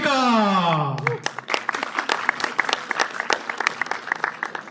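After a brief sustained voice, an audience at a startup business event breaks into lively applause, with distinct close claps from a moderate crowd welcoming a co-moderator.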